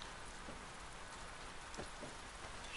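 Steady rain falls across a surface in The Last of Us 2, a dense even hiss with a few scattered louder drops, alone with no voices.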